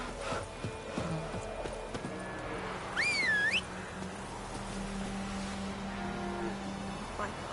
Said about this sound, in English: That's it, Roach. Slow now.